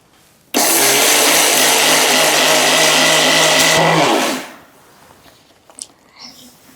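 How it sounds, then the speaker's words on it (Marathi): A mixer grinder grinding roasted rice into coarse rava whirs loudly for about three and a half seconds, starting abruptly and winding down, followed by quiet background. "चला आता हे मिक्सरला फिरवून घ्यायचं"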